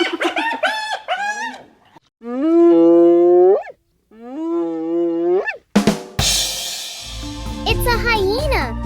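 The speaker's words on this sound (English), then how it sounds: "It's a hyena." A hyena's laughing call, a run of loud, high, rapid giggling whoops in several bursts, close and clear, with a harsh noisy burst and other animal sounds following.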